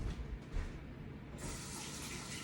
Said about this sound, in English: Let me rinse this one off.